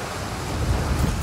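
Heavy rain with a low thunder rumble in a Total War: Pharaoh battle on muddy ground, a dense, loud, continuous roar with no voices.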